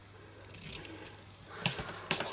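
Scissors snip through ribbon on a pink paper gift bag, a few soft, close crisp cuts and scrapes against quiet room tone, with no voices.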